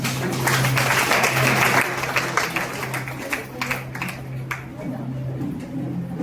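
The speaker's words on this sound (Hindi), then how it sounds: "ताली बजाएं पहले से।" A church congregation claps in a burst of fairly loud, dense applause that trails off into scattered claps over a few seconds, with voices speaking over it and a low steady hum underneath.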